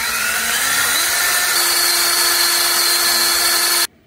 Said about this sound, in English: you could clamp this and transfer drill it, either way, to get the holes for our number 8 bolts